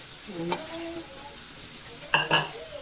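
A spoon stirs pork and chicken menudo in a pan, giving a few sharp metallic clinks and scrapes near the end over a low sizzle, with a brief faint voice-like tone earlier.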